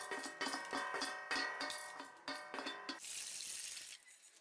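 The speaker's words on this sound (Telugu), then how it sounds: "వాటర్తో 2 సార్లు శుభ్రంగా కడుక్కోవాలి." Rice and moong dal are swished and rinsed in water in a bowl, giving rhythmic sloshing splashes that repeat several times, close and clear, before trailing into a steady watery hiss with no speech.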